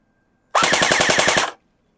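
ARP9 version 2 long airsoft gun, stock, firing one full-auto burst of about ten rapid evenly spaced clacks lasting roughly a second, loud and close, with silence before and after.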